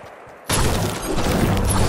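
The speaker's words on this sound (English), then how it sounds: "Oh shit, there's gunfire." Gunfire in the Fortnite video game erupts suddenly after a quiet moment and continues as a loud, dense, sustained barrage.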